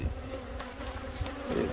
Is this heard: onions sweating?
no